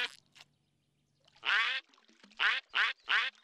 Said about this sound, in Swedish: Det var riktiga ankor.